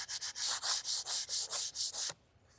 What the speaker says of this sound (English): we're going to go ahead and get this one sanded